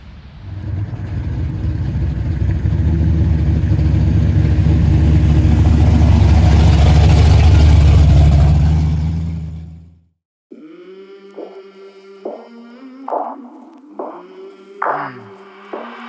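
A 1969 Pontiac Trans Am engine runs loud and steady on a dyno, its deep rumble swelling and holding for about ten seconds before cutting off abruptly. Music with singing follows.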